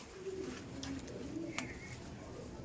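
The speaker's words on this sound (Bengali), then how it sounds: "দাদার হাতেও কিছু পায়রা আছে, দেখাও।" Soft, low cooing from a flock of high-flying pigeons kept by a Kolkata-area fancier, a few short murmured calls under steady background hiss, faint and at a distance.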